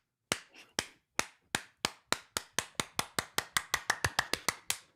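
About twenty sharp, dry claps ring out alone, starting spaced apart and then speeding into a quick, even rhythm, a close imitation of cheeks being clapped.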